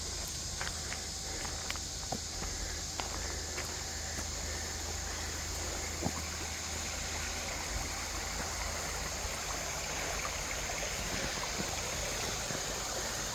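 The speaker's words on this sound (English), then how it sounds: "Nice view of the creek." A creek in a park flows with a steady, close rushing wash of water, a few faint scuffs and clicks scattered over the constant stream, with no talking.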